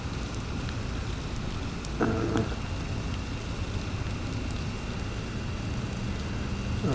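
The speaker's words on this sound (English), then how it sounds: "Meanwhile, it's raining over here" Steady rain falling outdoors at night, a continuous hiss with a brief louder patter of drops midway, no voices.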